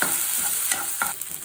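Prawn curry ingredients and paste frying in a pan, a dense close sizzle with a few quick scraping stirs over a brief moment, no speech.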